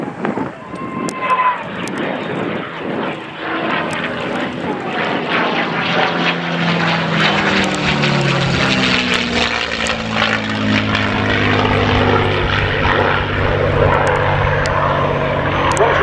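A P-51 Mustang with a Rolls-Royce Merlin engine flies an airshow display, its loud, throaty piston-engine roar sweeping past close by with a clear rise and fall in pitch as it passes.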